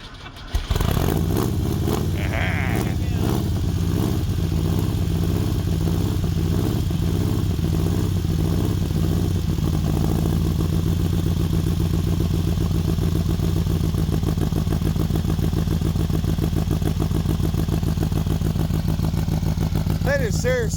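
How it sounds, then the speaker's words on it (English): A hot-rodded 1970s VW Baja Bug four-cylinder engine, out in the snow, rumbles loud and close, picking up with uneven revving early on before settling into a steady, throaty running note for the rest. "That is seriously a nice sounding 4-cylinder."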